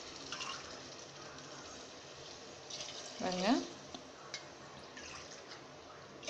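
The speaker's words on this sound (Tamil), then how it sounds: "அதுக்கு தகுந்த மாதிரி 2 டம்ளர் தண்ணி ஊற்றுறோம்." Water is poured from a tumbler into a pot of rice and vegetables for vegetable biryani, a short splashing pour under someone talking in Tamil, with faint kitchen clatter around it.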